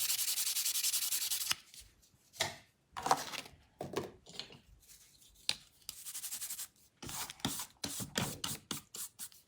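A nail buffer rubs back and forth across a fingernail in close, dry scratchy strokes, with a long steady buff first, then shorter bursts broken by pauses, no talking.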